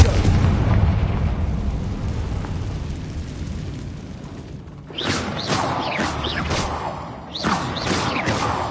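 Confringo blasting spell explosions in the video game Hogwarts Legacy: a rumbling blast fades out, then a series of sharp crackling bursts in two quick clusters, loud and close.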